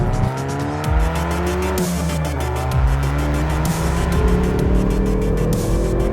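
A Hyundai i30 N in Sport Plus mode powers out of a corner, its engine rising through the revs with tyre squeal, loud and close under steady acceleration, with no talking.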